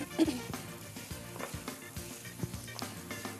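Couscous fries in a pan with spices, pepper and garlic while being stirred, producing a low, steady sizzle with soft, irregular scraping and clinks, close and quiet with no voices.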